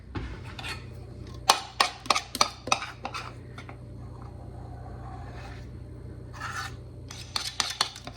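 A spatula scrapes a peppermint fudge layer onto a chocolate fudge layer, giving bursts of sharp scraping and clinking strokes, a quiet stretch, then another quick run of scrapes.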